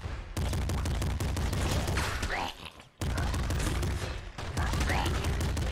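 Rapid video game gunfire in Nuclear Throne crackles in dense bursts with mechanical clicks, broken by brief pauses, loud and close throughout.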